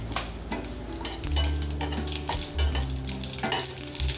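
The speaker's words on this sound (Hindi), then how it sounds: "तेल मेरा गर्म हो चुका है, इसमें मस्टर्ड सीड्स डालूंगी पहले। फिर डालूंगी मैं करी पत्ता।" Mustard seeds and curry leaves crackle and sizzle loudly in hot mustard oil, a steady close frying hiss with scattered pops and the scrape of stirring.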